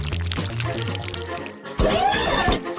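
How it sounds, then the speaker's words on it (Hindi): Thick paste poured onto toast as a cooking challenge dish is prepared, a brief wet pouring splash of just under a second coming after a stretch of background music. "हम पेस्ट को टोस्ट पर डालेंगे।"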